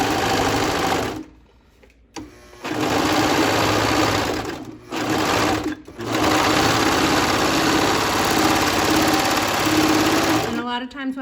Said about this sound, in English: serger and I'm going to serge those 3 edges.